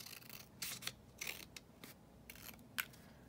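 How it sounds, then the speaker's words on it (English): Scissors trimming paper for a ring-bound altered book journal page, several separate crisp snips with rustling in between, close and quiet. "what I'm going to do is just trim this down slightly"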